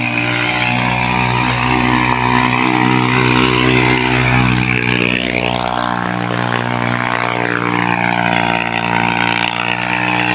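Motorcycle engine revving on a rough road where the rider is told to lift the bike, loud and close with a steady drone and rising then falling pitch sweeps as the throttle is worked.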